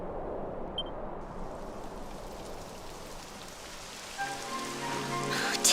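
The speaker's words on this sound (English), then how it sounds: "It would have to go and start raining, wouldn't it?" Steady rain patters across a surface in the video game Dragon Quest XI S, a dense continuous hiss; near the end a soft musical tone rises faintly over it.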